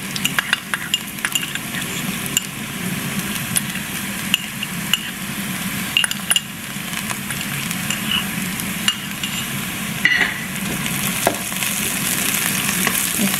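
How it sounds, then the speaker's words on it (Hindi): Chopped garlic and ginger fry in a pan for a capsicum curry, giving a steady, close, broadband sizzle with faint stirring and clinks throughout, no talking. "इसको थोड़ा सा फ्राई करेंगे जब तक कि लहसुन और अदरक जो है वो खुशबू ना आने शुरू हो जाए"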